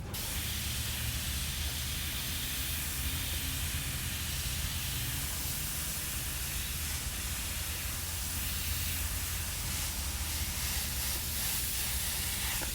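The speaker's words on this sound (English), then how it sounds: "Just a little bit of added airbrushing." Airbrush hissing steadily as it sprays paint over a stencil, adding smoke effects to a skull artwork; a continuous, close, even spray with no pauses.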